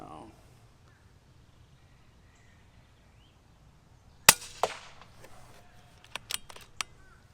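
Bullpup air rifle firing pellets outdoors, a sharp nearby crack followed by several lighter snapping shots at irregular intervals over quiet ambient background.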